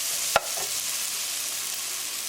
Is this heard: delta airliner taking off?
no